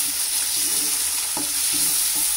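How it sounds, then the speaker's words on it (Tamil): Schezwan sauce with chillies bubbles and sizzles in a pan at a steady, hissing simmer, heard close up with a brief clink or stir partway through and no talking. "இது நல்லா கொதித்து சுண்டணும்."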